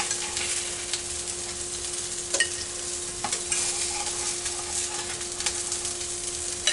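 Beef tips frying and starting to burn in a pan, a steady, fairly quiet sizzle with a few light scrapes and ticks of stirring, no talking.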